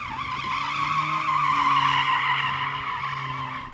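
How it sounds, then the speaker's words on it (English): A four-wheel drive Mercedes slides in drift mode, its tyres squealing in one long, steady, wavering screech over a low engine drone, loud and close, with no voices. "that Mercedes has a very clever drift mode where it can somehow slide even though it's a 4-wheel drive car"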